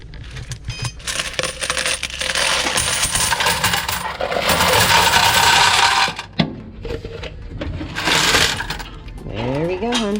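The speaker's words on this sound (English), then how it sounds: "let's go and put that into the change machine" Coins clatter and rattle continuously into an arcade change machine at a flea market arcade, a loud dense metallic pour lasting several seconds, then a brief pause and another burst, with electronic beeps near the end.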